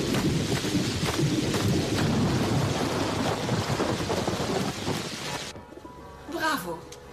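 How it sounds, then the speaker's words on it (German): Steady heavy rain pours down with thunder rumbling through it, then the downpour cuts away abruptly to a quieter moment with a brief sound. "Es regnet."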